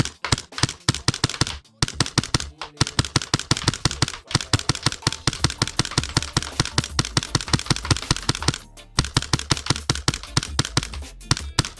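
A custom Hi-Capa airsoft pistol fires long, rapid strings of sharp, close snapping shots, a few short pauses breaking the near-constant rhythm.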